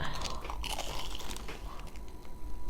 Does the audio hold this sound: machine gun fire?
no